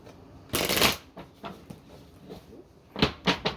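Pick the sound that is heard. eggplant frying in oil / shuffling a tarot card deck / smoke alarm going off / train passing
shuffling a tarot card deck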